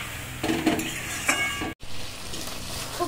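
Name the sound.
stirring and frying okra with shrimp and ground spice paste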